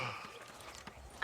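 Faint horse hooves clip-clop in the Red Dead Redemption video game, a short, quiet run of hoof beats.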